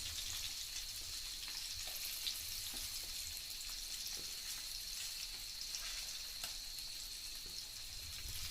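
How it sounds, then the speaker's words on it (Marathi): Steady hiss and crackle of fish frying in hot oil, continuous and fairly quiet, with occasional soft pops and clicks. "मच्छी तळू जात होता"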